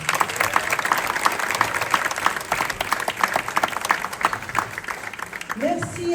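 Audience applause at an award ceremony as a trophy is handed to an association, dense steady clapping throughout with a voice speaking over it near the end.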